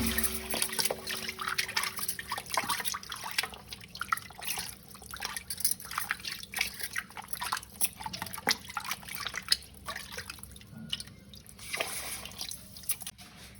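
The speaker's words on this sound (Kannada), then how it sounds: "ಒಂದು ಸತಿ ವಾಶ್ ಮಾಡಿ ಕ್ಲೀನಾಗಿ ತೊಳ್ಕೊಬೇಕು" Pieces of mutton leg being washed under running water, with irregular splashing, dripping and trickling close by, continuous with small bursts of handling throughout.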